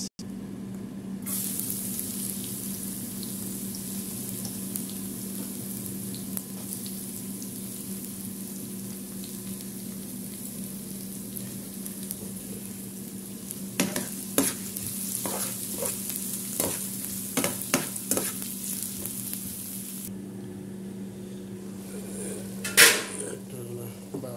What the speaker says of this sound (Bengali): তেলে একটু বাগা দিচ্ছি, রসুন, পেঁয়াজ, শুকনা মরিচ।